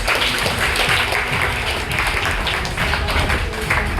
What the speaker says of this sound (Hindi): आज अपसाइड है लेकिन उसके लिए भी जोरदार तालियां।